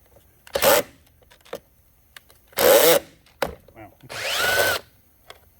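A handheld power impact gun removing a nut from a car alternator, fired in three short whirring bursts with pauses and small clinks between, close and loud in a quiet garage.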